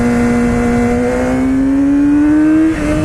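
A 2016 Yamaha R6 sport bike engine revs hard and close, its pitch climbing steadily in one long, loud, high-revving pull before a brief dip near the end, with no talking.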